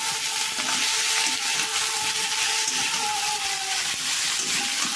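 Potato and eggplant curry sizzles steadily in hot oil in a pan, a continuous close frying hiss with faint crackles and no voices.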